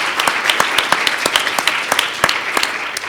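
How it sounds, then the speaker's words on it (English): An audience at a civic event on democracy applauds with steady, dense clapping. The sound stays fairly close and full for several seconds, with individual claps poking out of the wash. "So I want to give them a round of applause"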